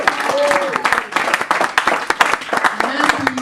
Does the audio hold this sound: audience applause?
yes